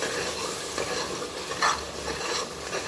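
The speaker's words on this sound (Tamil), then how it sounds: "இப்போ இதோடையும் சேர்த்து நல்லா வதக்கிக்கிறேன்" Curd with spices sautéing in a pan for beef biryani, a steady close sizzle with soft stirring scrapes running throughout and one brief louder scrape partway through; no one speaks.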